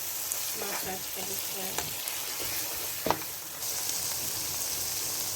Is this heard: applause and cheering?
no